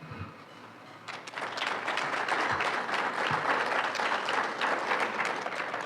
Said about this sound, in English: Nice round of applause for the mayor of St. Petersburg